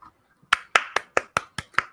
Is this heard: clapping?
yes